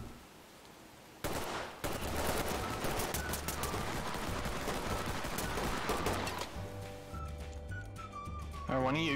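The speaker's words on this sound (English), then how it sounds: "Oh, that's a lot of gunshot from outside." Rapid bursts of gunfire from outside in the tactical shooter game Ready or Not, dense and continuous, with people talking over it.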